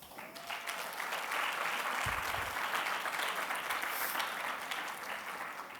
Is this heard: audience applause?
yes